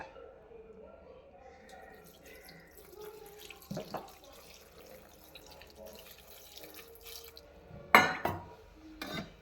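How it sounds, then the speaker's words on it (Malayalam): Water splashes and pours into a pot of bitter gourd and dried mackerel curry in two short bursts, with quiet kitchen clatter in between. "പാകത്തിന് വെള്ളം ഒഴിച്ച് കൊടുക്കാം"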